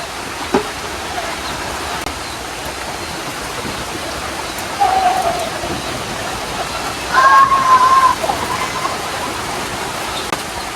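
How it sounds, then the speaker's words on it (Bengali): Sudden heavy rain pours down over a village, a dense, steady roar of water with a few brief louder surges and faint tonal sounds, no talk heard. "প্রচুর বৃষ্টি দেখেন হঠাৎ করে বৃষ্টি চলে এসছে"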